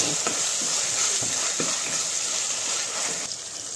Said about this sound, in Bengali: ভালোভাবে আমরা টমেটোটাকেও ভালোভাবে ভাজা ভাজা করে নেব, যাতে কাঁচা গন্ধ না থাকে টমেটো